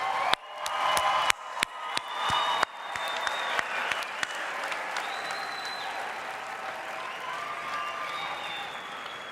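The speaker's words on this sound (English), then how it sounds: "a round of heartfelt, vibrant, and emotional applause to you" At a graduate commencement ceremony for biomedical and health sciences, the audience gives a sustained round of applause. It is loud and dense at first, then settles into steady clapping with a few sharp individual claps close by.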